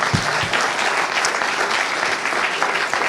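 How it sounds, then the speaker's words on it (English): An audience at an evening discussion event hosted at the Vancouver Aquarium applauds: dense, steady clapping fills the whole stretch at a fairly close, even level, with no pauses. "So a round of applause for the Vancouver Aquarium."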